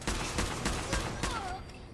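Gunfire in the video game Fallout 4, a rapid run of loud, sharp shots in quick succession, with no voices over it.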